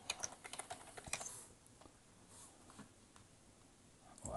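Quiet computer keyboard typing in a Photoshop session: a quick flurry of soft key clicks at the start, then near silence, with a final tap at the end.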